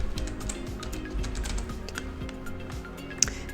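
Quick, light keystrokes on a computer keyboard in an irregular run of close taps, with a slightly sharper click near the end and a faint hum underneath.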